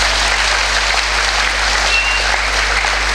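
A congregation at a first Mass in Brazzaville applauds continuously, a dense field of clapping over a steady low electrical hum, with no clear voices.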